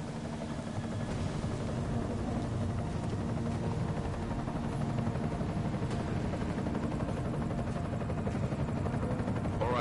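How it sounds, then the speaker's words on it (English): An enemy helicopter in the video game Deus Ex: Mankind Divided, a steady low rotor drone held at an even, moderately distant level throughout with no pauses. "Enemy helo sighted."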